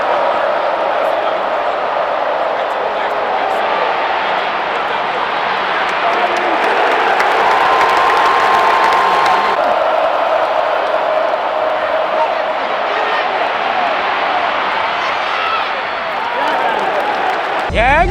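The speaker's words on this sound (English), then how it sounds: "it's getting pretty loud in here. You got the music going, crowd going." A packed Bryant-Denny Stadium crowd roars through Alabama vs LSU, a sustained, loud wall of cheering and whooping with music and a brief whistle-like tone mixed in, steady from start to finish.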